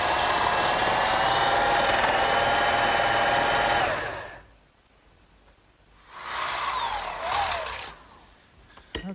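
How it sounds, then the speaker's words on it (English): A drill runs loud and steady for several seconds, stops, then whirs again in a shorter burst as it bores into a metal bracket. "what I've just done is drilled a hole in this metal bracket"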